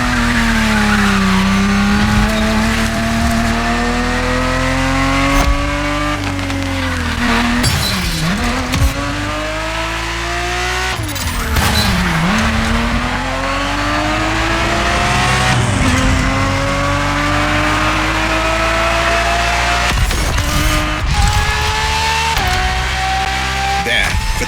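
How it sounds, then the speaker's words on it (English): A 1970s Ferrari 365 GTB4 races in The Crew Motorfest, its loud, close engine climbing and dropping through repeated gear changes while the tires squeal through corners. "The Ferrari 365 GTB4 is the perfect vehicle for you to experience Ferrari racing as it felt back in the 70s"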